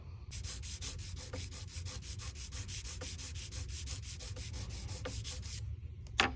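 Sandpaper rubs back and forth across a lacquer finish while a scratch is repaired, producing a fast, even run of close scratchy strokes for about five seconds before stopping, followed by a small knock.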